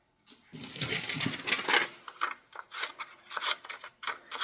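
The scissors of a Dakoyu D4 multitool snip several times in a steady rhythm, crisp metallic cuts close by with no talking.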